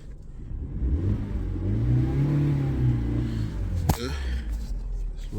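A Vauxhall Corsa engine with a faulty crankshaft sensor signal revs up and holds a steady mid-pitched drone, then drops off after a sharp click, heard fairly quietly from close by.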